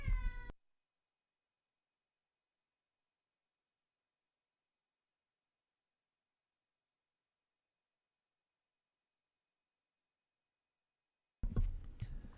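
A pet cat meows loudly at close range in two brief bursts at the start and end, separated by a long stretch of silence.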